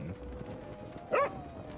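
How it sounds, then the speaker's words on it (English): A dog in the room gives a single short, high yip-like bark, moderately close, over a faint background hum and light household noise. "Dog's chiming in"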